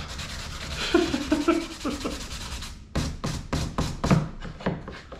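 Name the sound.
sanding wood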